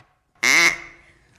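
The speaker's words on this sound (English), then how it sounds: "Oh, there's a duck in here." A single loud, nasal duck quack rings out close by, then fades quickly into quiet, with no one talking over it.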